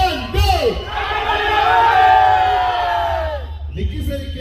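A large crowd shouts birthday wishes for Vicky Sir in unison, a loud sustained roar of voices lasting a few seconds, then breaking off as scattered shouts continue.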